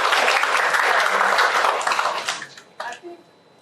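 Conference audience applauding at a talk on Nigerian labour force statistics, a loud dense patter of clapping that thins and fades out near the end, with a few stray claps trailing off.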